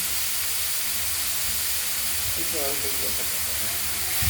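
Finely chopped banana stem, mashed with salt, hisses loudly and steadily in a hot wok of oil tempered with mustard and chilli, with a continuous steamy sizzle throughout.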